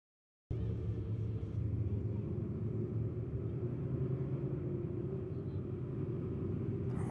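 Super stock race cars at Lebanon Midway Speedway roll onto the track, their engines a steady, heavy low rumble that holds on continuously at moderate distance.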